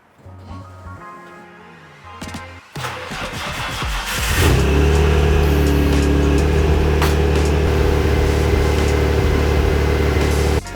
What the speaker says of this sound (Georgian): 2026 წლის პირველი დაქოქვა